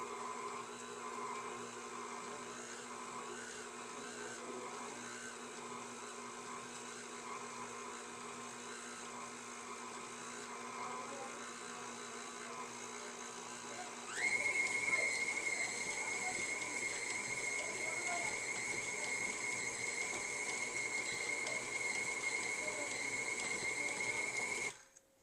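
A stand mixer beats gluten-free sugar cookie dough with a steady, close motor whir that jumps to a higher, louder pitch about halfway through and then holds there.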